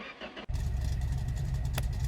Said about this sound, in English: Truck seems like it's getting a little harder to start for some reason.